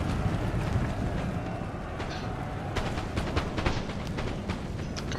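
Massed infantry musket fire in a Napoleonic battle from Napoleon Total War, rough crackling volleys and scattered pops over a dense rumbling battlefield din, with no clear single shot standing out.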